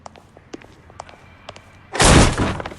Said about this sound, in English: just kick the door in